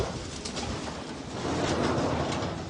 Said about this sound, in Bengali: এই হলো কবুতরগুলার অবস্থা